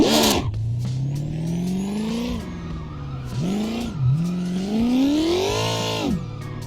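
A car drifting through a corner in the racing game Assetto Corsa: the engine revs up and down in sweeping pitch climbs and drops, with bursts of tire squeal. The sound is close and loud, with no voices.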